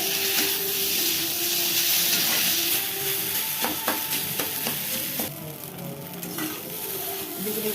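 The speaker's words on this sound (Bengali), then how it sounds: "এখানে দিয়ে দিলাম একটুখানি ভিনেগার। এটাকে দিয়ে ভালো করে একটু নাড়াচাড়া করে নেবো।" Chowmein sizzling and hissing in a frying pan after a splash of vinegar, loud and close, with scattered clinks and scrapes of stirring toward the end.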